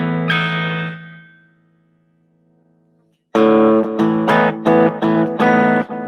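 A thick, warm electric guitar chord through a Blackstar Debut amp on its woolly UK voicing rings out and fades to near silence, then a run of loud, full strummed chords follows in quick succession.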